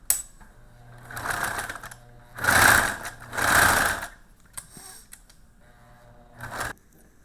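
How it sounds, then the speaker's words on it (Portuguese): A sewing machine stitches fabric for a toy mouse in several short whirring runs of rapid needle clatter, separated by quiet pauses and a few small clicks, close and clear. "eu vou costurar as duas"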